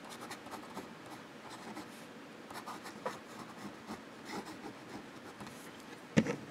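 Fountain Pen Revolution Ultraflex flex nib scratching across paper, a soft, continuous close-up rubbing of pen strokes with a small knock near the end, no talk.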